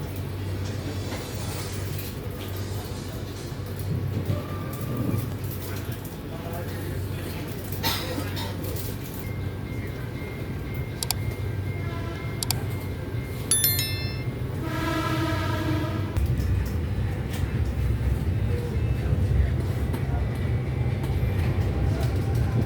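An Argo Cheribon passenger train departing for Cirebon rumbles low and steady with rail clatter, a station announcement-like tone sequence, and the engine noise swelling as it gets moving.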